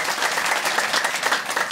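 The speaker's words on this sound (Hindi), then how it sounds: "आप लोगों के लिए जोरदार ताली बजाओ, जोर से जितना जोर से बजा सकते हो।" Loud, dense applause from the audience at a Bhagwat katha in Ramshahr, Himachal Pradesh, steady and sustained throughout with no gaps.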